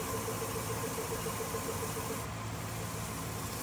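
A wood lathe spins a mimosa bowl at about 700 RPM while abrasive paste works the surface, giving a continuous steady motor hum and whir with no pauses.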